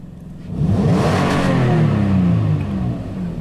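A Toyota Tacoma pickup's 4.0 engine, freshly tuned up and with a minor exhaust leak, revs up loudly close by, climbing in pitch, holding a strong roar, then easing back down.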